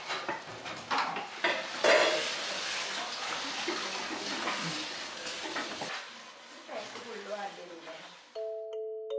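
Tomatoes, onions and salt are stirred in a kadai on the stove for chicken curry: a spoon scrapes and clinks against the metal pot over soft sizzling, with repeated close stirring strokes.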